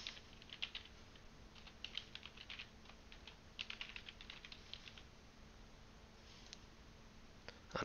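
Fast bursts of clicky keystrokes on a computer keyboard as an email address is entered during a GitHub sign-up, soft and close, pausing between runs with a last quick flurry at the end.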